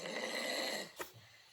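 A storyteller's voice imitates a snore in a short, breathy rasp lasting under a second, followed by a brief quieter puff of breath, heard close and alone.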